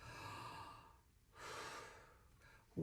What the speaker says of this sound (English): just take a nice big breath and just, as if you were like sighing